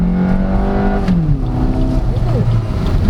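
A 2023 Suzuki Ertiga GLX automatic mild hybrid accelerating, heard from inside: a loud engine drone with whining tones that sweep upward and shift, continuous over road rumble.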